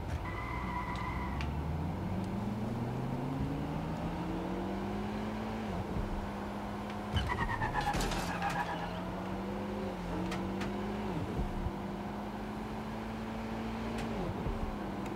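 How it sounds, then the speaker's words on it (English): A car driven in the video game Watch Dogs Legion, its engine droning and rising in pitch through gear changes, with a brief tire squeal midway, steady and close throughout. "This car looks like a Tesla to me."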